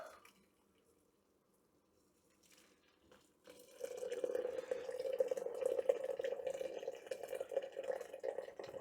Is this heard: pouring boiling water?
yes